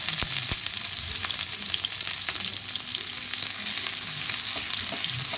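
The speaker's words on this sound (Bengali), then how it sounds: "পেঁয়াজটা লাল লাল করে ভেজে নেব" Onions and chillies frying in oil with black cumin seeds, a loud continuous sizzle close by with occasional clinks and scrapes from stirring.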